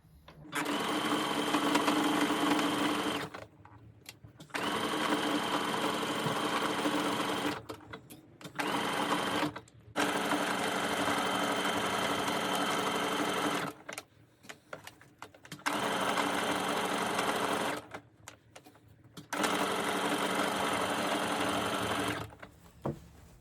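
A sewing machine stitches a seam on a loop-back sweatshirt, running loud and close in a steady whirring buzz, in several long runs separated by brief pauses.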